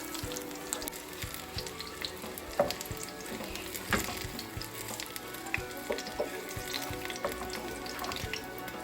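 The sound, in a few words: spinach and onion pakoras frying in oil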